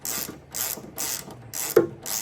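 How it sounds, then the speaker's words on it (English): A Harbor Freight Pittsburgh ratchet turning a bolt on a 2022 Honda Civic, five rhythmic pawl clicking strokes in steady back-and-forth succession, close and clear with no voices. "Don't want to break the ratchet either."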